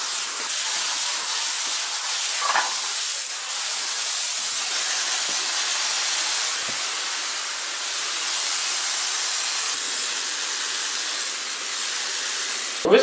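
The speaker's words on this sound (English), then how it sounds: "Let's go get Febreze and spray this" Febreze air freshener sprayed in a room, a steady broad hiss running continuously from start to finish with no talking over it.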